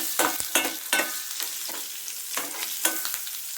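Green chillies fry with turmeric and salt in hot oil for tamarind pulihora, giving a close, steady sizzle broken by repeated scraping strokes of a spoon stirring the pan.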